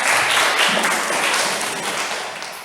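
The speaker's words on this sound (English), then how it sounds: "Give them another round of applause, boys and girls" Church congregation applauding children after a reading, a continuous close round of clapping that tapers slightly toward the end.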